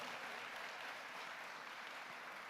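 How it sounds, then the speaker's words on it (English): Steady applause from an audience filling a town hall meeting, a dense, even patter of clapping hands that holds without a break for the whole stretch, no voices rising above it. "Let's give her a round of applause as well"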